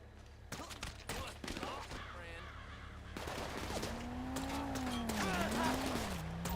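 SMG fire in GTA 5 Online rattles in dense rapid bursts, followed by a continuous engine-like drone with more scattered shots and impacts, fairly loud throughout.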